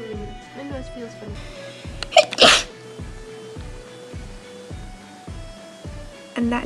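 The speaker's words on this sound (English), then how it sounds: "was my first sneeze in a vlog" A single sneeze bursts out near the middle, close and loud, over a steady, rhythmic mechanical clatter and hum in a bathroom.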